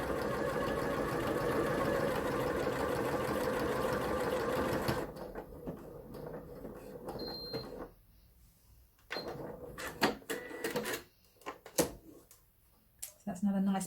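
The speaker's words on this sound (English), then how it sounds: "So it's doing the curve at this end and then it's zigzagging backwards." A sewing machine stitches a buttonhole, running in a fast, even mechanical chatter for about five seconds, then slower irregular bursts of stitching with pauses, close and alone without talk.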